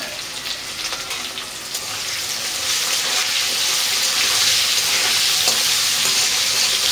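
Potatoes frying in a pan with salt and a little turmeric powder for a cauliflower paneer curry, a steady broad sizzle that swells louder after the first few seconds and holds continuously, with faint stirring and no talk.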